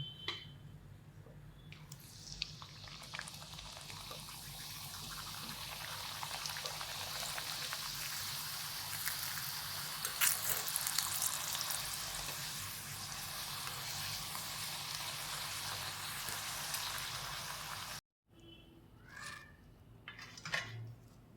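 Pumpkin puris frying in hot oil give a steady, dense sizzle that runs almost unbroken, fairly close, then cuts off abruptly near the end before a few faint clinks and rustles.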